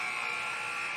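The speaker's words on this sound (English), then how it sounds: "There's the final buzzer." A continuous electronic final buzzer sounds at the end of an ice hockey game, a loud steady tone holding for the full second with crowd noise beneath.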